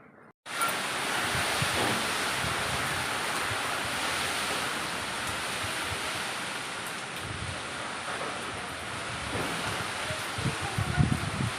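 Strong wind blows steadily in a gusty, broadband roar close to the microphone, with no one speaking, during rainy weather.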